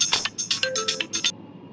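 A phone ringtone chimes in a quick repeating electronic pattern for about a second and a half, fairly close and clear, then stops as the incoming call is answered.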